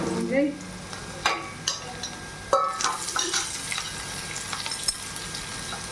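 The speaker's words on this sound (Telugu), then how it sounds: "తాలింపు వేస్తున్నాం." Spices tempering in hot oil for a bitter gourd curry crackle and sizzle steadily, with stirring and occasional clinks of a spoon against the pan, close and busy throughout.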